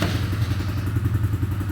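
A Coleman AT125UT four-wheeler with a cold engine in a chilly garage runs with a rapid, uneven thumping chug, close and rough, with no voices over it.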